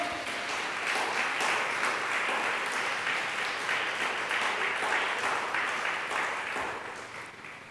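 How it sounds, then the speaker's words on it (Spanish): Strong, sustained applause fills a Spanish-language church service, a thick crowd of clapping hands holding steady for several seconds before easing slightly at the end. "denle un fuerte aplauso al Señor"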